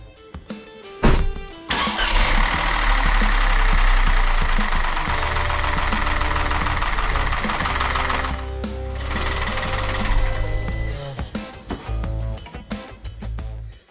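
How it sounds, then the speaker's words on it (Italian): Citroen C3 1.2 82cv petrol engine (HMZ) started after an oil change, turning over then settling into a steady, fairly loud idle heard close up, with a brief dip midway and some clunks toward the end. "chiudo la stina e vado a far girare il motore."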